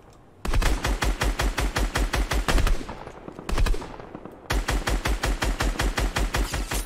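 Video-game automatic gunfire in a tournament match rattles off in rapid, evenly spaced bursts, with one brief pause and a short second burst before a final sustained volley; loud and close, with no speech.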